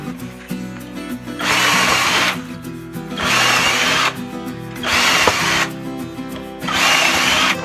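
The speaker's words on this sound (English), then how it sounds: "I'm going to drill my other one and use this as a template" A power drill boring through a DIY chick feeder, using another piece as a template, loud high whirring bursts of about a second each, four in a row with short quieter pauses between.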